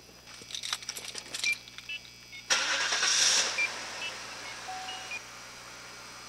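A vehicle with a PSX 2000 system is started, its engine catching after a few clicks and a rising whine, then running at a steady idle close by with a couple of faint beeps.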